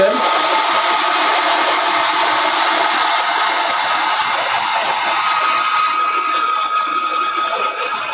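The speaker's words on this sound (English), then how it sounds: "Well, I tried to plug in my hair dryer." A hair dryer blows with a steady, loud, close whoosh and motor whine, holding constant before its pitch and texture shift slightly near the end.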